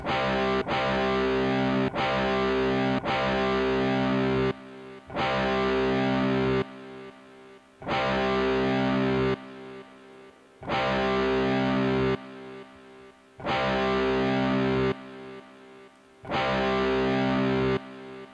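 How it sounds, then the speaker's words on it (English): An electric guitar through an Orange Terror Stamp amp with delay plays distorted, sustained chords in repeated bursts, each followed by a brief echoing tail, with no voices. "I will put some delay on it and maybe some reverb."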